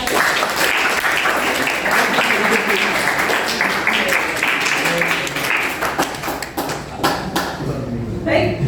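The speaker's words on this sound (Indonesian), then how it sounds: "Oke, tepuk tangan" Loud, dense clapping from a class in a coding and artificial intelligence training session fills several seconds, a continuous wash of many hands that thins out and turns more scattered toward the end.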